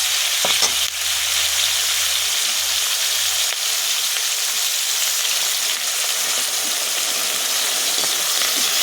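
Young jackfruit frying in a pan for chilli jackfruit, a loud, continuous close sizzle with faint scrapes of stirring and a low hum early on.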